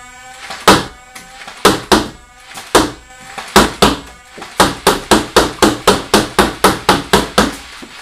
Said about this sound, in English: then I'm going to unload the rest of the mag on full auto